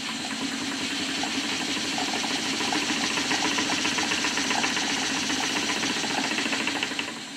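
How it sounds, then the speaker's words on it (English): A model steam beam engine running on a kitchen table as its steam valve is opened wider, giving a steady close mechanical chuffing and rapid rhythmic ticking with a hissing, watery steam wash throughout, with no voices. "I'm opening the steam valve a bit wider to let more steam into the engine"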